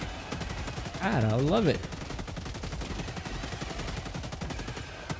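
A LAS-16 Sickle laser rifle in Helldivers 2 fires in rapid, evenly spaced bursts that run throughout, loud and close, while someone speaks briefly over the shooting.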